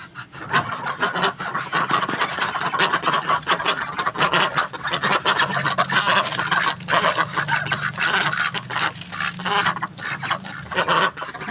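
Muscovy ducks and other poultry on a rooftop at feeding time keep up a busy, continuous chorus of quacks and squawks, with dense overlapping calls throughout.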